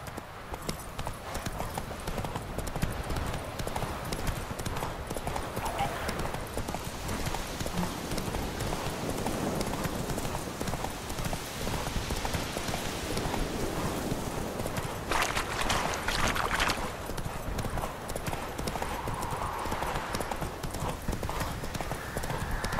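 Roach, the horse in The Witcher 3, gallops with steady, rapid clip-clop hoofbeats throughout, a brief whinny and some game ambience mixed in, loud and close.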